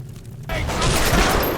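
Gunfire bursts out in the BioShock video game, a loud, dense volley that starts abruptly and continues as a sustained roar after a quiet moment.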